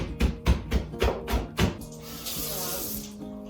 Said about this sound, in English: I'll just rinse this off